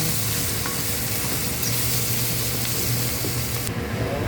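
Food with bouillon cubes and seasoning stir-fried in a pan until golden brown, giving a loud, steady sizzle with constant stirring scrapes and no pause.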